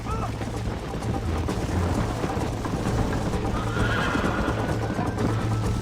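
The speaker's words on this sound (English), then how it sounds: "I think you chose the wrong horse, Miss McFarland" Horses in the Western game Red Dead Redemption whinny and gallop in a race, with loud, continuous hoofbeats and neighing over a dense outdoor soundscape.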